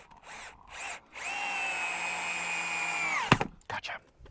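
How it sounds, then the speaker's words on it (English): A power drill drives screws into hinges on a garden project, one sustained high whine of about two seconds with a speed-up and slow-down, close and loud, with brief shorter bursts and scraping around it. "you can see me when I put the rest of the hinges in, the rest of the screws in"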